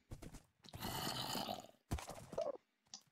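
Horse in a video game, a loud close neigh followed by snorting and grunts, with hoofbeats at the start, near a village by water.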